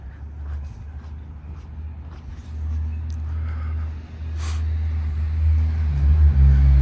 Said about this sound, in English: I think I hear his car.